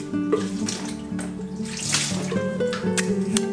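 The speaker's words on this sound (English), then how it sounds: "It helps me if I spray water on the sides of the dishwasher" Water sprayed onto the sides of a kitchen dishwasher, a steady hissing, splashing flow like a running tap, close by and continuous, with faint tones in the background.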